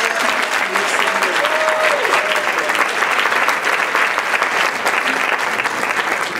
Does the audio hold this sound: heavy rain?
no